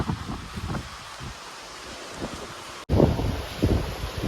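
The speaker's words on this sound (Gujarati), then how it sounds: "પવન બહુ છે." Strong wind during rainy weather buffets the microphone in rough, rumbling gusts that roar loudest after a short break, with a rustling, surf-like wash and no talking.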